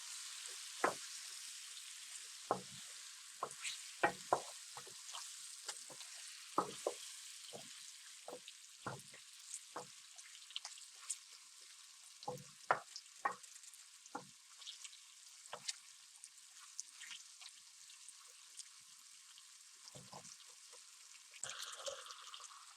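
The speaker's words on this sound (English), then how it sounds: "And stir until all the beef is brown on the surface." Beef sizzling in a frying pan for stroganoff, a faint steady hiss broken by soft scraping stirs and clinks of the utensil, close and without talk.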